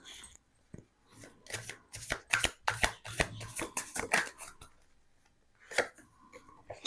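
Playing cards being laid out on a surface, a quick run of crisp slaps and slides that clusters in the middle and then trails off into a few scattered flicks, close and dry.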